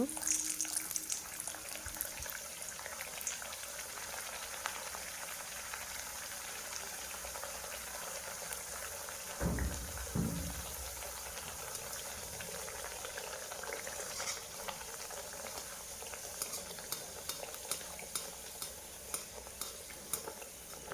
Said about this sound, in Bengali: তেল গরম হয়ে এসেছে, একে একে আমি এরপর সমস্ত লুচিগুলো ভেজে নেব।